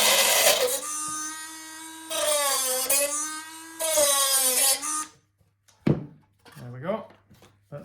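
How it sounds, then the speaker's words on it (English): A Dremel rotary cutting tool slices through the plastic back of an above-ground termite station, giving three sustained high whining bursts of about a second each, loud and close, followed by a few short clatters and handling knocks. "So I use one of these Dremel cutting tools, they're great. So if we just cut the back out of the station."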